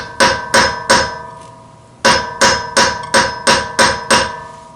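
A hammer pounds an old socket onto a stuck Honda locking wheel lug nut: three sharp metallic blows, a short pause, then seven more in a steady, quick rhythm, loud and close with brief ringing decays.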